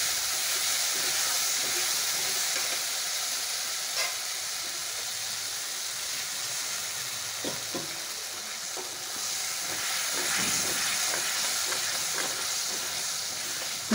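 Aloo masala sizzling and frying in a pan, a steady close hiss with occasional soft stirring scrapes throughout.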